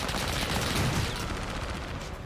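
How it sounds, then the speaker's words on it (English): Dense, overlapping gunfire from an enemy squad in a video game crackles continuously and loudly for a couple of seconds, a steady rattle of many shots with no pause. "Whole fucking squad on top cell just firing at me."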